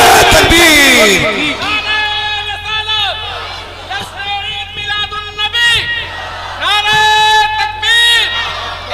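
A large crowd at a religious gathering roars back in unison after the Takbir call, several loud rising chanted shouts in a wavering group rhythm, with an amplified echoing quality.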